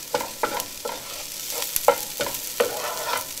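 Vegetables for aloo gobi, cauliflower and potatoes, frying in a pan as turmeric is stirred in: about half a dozen rhythmic spoon scrapes over a continuous close sizzle, with no voices.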